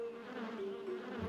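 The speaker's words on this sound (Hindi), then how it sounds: "मधुमक्खी वापस आ गई" Bees buzz in a Boonie Bears Hindi cartoon, a steady, droning hum that wavers slightly in pitch and holds fairly close throughout, with no talking.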